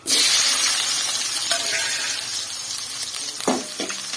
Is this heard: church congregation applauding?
no